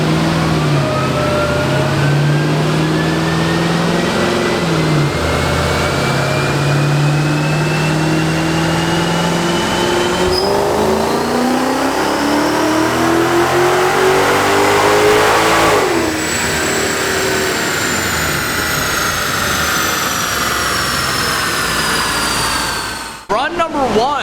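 A modified Mercedes-Benz E55 AMG runs on a dyno, its engine revving loud and steady as the pitch climbs through a long sustained pull, dipping around the middle before rising again, then cutting off abruptly near the end.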